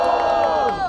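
Rap battle crowd at a regional freestyle competition shouting and cheering together in a dense, continuous roar, loud and close throughout, with no individual speech standing out.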